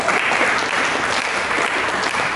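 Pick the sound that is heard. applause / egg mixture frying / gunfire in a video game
applause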